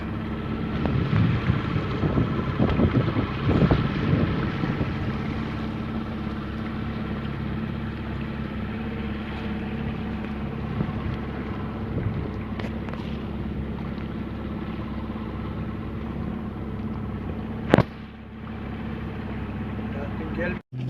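Fishing boats on the sea after a morning horse mackerel outing. A steady motor drone runs under gusty wind buffeting, with voices in the background and a single sharp knock near the end.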